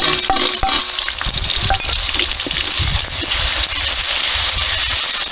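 Tomato, ginger and green chili fry in a hot pan, with a steady loud sizzle broken by occasional stirring clinks and scrapes close by.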